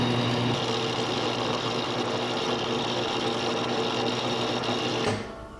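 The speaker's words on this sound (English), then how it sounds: "I'm gonna sand this for a bit because I have a neurotic sanding issue." A steady, high-pitched mechanical whir of sanding a wooden crankbait lure body runs continuously, like a small power sander, then winds down near the end.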